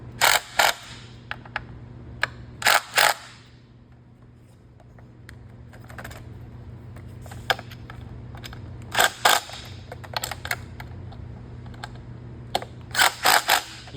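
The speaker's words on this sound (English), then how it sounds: "you can go ahead and use your impact driver to tighten them down" An impact driver tightens skid plate bolts on a Kawasaki KLX300 dirt bike in a garage, with several short, loud hammering bursts of one to two seconds separated by quieter gaps with faint clicks and handling noises.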